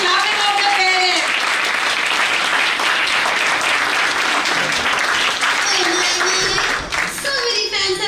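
Parents in a school show audience clap loudly and continuously for about eight seconds, a dense near roar of hands with voices and cheers mixed in, thinning briefly near the end.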